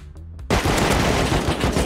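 Sudden burst of rapid automatic gunfire in the video game Rust, loud and close, cutting in after a quiet start and sustaining dense overlapping shots to the end.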